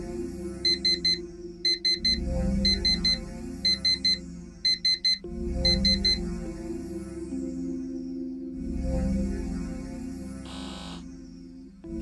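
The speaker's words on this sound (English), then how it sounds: "Why did you set your alarm clock for 5 a.m. every morning even though you would never get up for it?" An alarm clock rings in the video game Actual Sunlight, sounding in repeated rapid beeping bursts over looping ambient music, loud and close.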